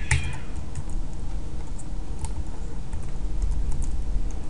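Keystrokes on a computer keyboard while a router password is entered, a steady run of light clicks and taps at close range with no talking.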